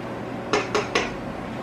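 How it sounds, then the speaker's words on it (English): A utensil stirring and poking mashed potatoes in a pot, heard as three quick metallic clinks against the pot over a low steady background, close and without talking. "Stir and poke."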